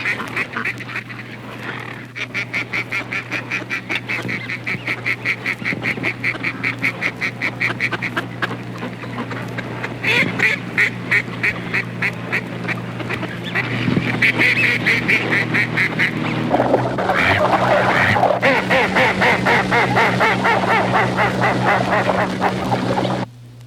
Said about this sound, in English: Please listen to the difference in tone these hen mallards get.